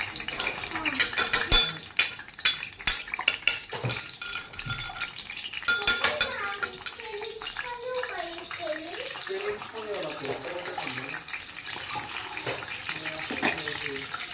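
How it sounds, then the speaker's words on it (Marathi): Eggs go into a hot kadhai and are stirred, with sharp metallic clinks and scrapes of a utensil against the pan, followed by sizzling and frying, while someone talks throughout. "आता कढई ठेवली मस्त तापायला. त्यात मी आता हे अंडे टाकणार आहे."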